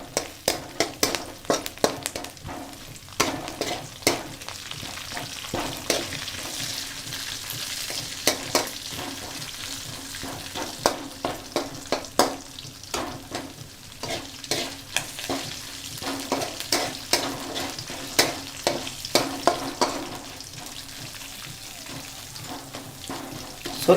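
Seasoning frying in a pan for ivy gourd chutney, steady sizzle with repeated sharp crackles and pops throughout, close and moderately loud with no talking.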